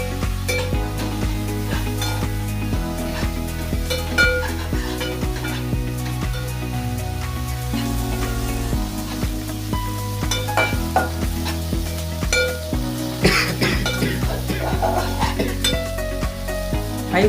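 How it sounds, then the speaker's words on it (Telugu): Fresh methi (fenugreek) leaves frying in a pan over a high flame, a steady loud sizzle with a utensil stirring and scraping against the pan throughout. "హై ఫ్లేమ్లో పెట్టుకొని ముందుగా మంచిగా వేయించుకోవాలి"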